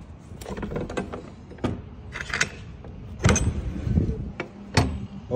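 The double rear doors of a 2025 Maverick 2 Horse Lite Deluxe aluminum trailer are opened, giving sharp metallic latch clicks and clunks with a rattling swing, close and without talk.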